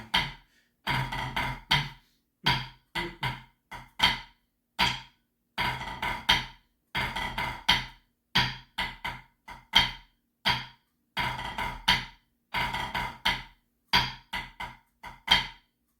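A snare drum plays a 2/4 massed band cadence, with crisp, loud strokes grouped in repeating rhythmic phrases separated by short gaps.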